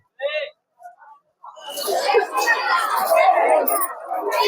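A crowd of pilgrims on the main road in Ayodhya near Hanumangadi, a dense babble of many voices and chatter building after a few brief sounds, loud and continuous close by.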